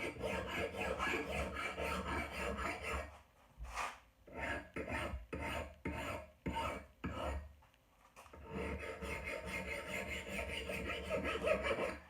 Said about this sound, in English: it sharpens the axe, and it takes off those little metal filings that are on the edge